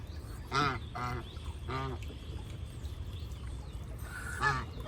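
Several loud, nasal Pekin duck quacks ring out by a farm water tub in separate bursts, a pair early on, another a second later and one more near the end, over steady background noise.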